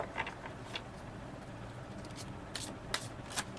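Slippery tarot cards being shuffled by hand, soft riffling swishes and a few sharper flicks standing out near the end over a steady background hiss, with no voice.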